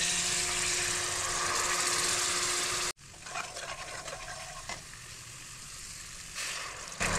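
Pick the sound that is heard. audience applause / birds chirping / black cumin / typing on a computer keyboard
black cumin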